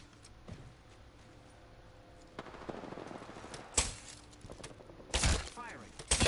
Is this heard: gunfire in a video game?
yes